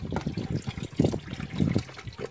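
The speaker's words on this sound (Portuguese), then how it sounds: "eu vou colocar aqui sabão líquido, aquele que fizemos aí no canal" Liquid laundry soap glugging and trickling into a small 100 ml cup, uneven splashy pulses close by and fairly quiet, with no talking over it.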